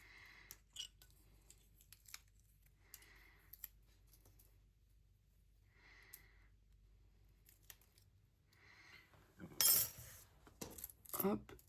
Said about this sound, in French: Ça, c'est mes ciseaux